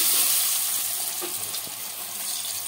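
Potatoes, flat beans and eggplant hitting hot oil with turmeric, giving a loud, steady broadband sizzle that fades slightly and then holds, close up with no talk.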